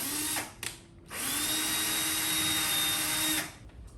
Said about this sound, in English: now I'm gonna make some holes here